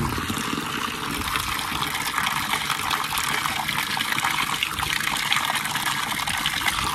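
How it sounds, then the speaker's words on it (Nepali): Water gushes steadily and loudly from a spring outlet in a hill village in Khotang, Nepal, a constant rushing splash with no break. "ओ माई गड यत्रो पानी आउँदो रहेछ"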